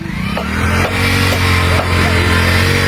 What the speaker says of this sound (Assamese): এই বাইকটো চাওক কেনেকৈ পাৰ কৰি আছে